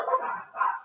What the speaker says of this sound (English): And I got dogs going ham in the background.